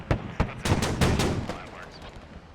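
Armoured vehicle gunfire in the military shooter Squad during an armour skirmish, with an ASLAV firing: sharp cannon shots, two isolated cracks and then a rapid burst of reports, loud and close.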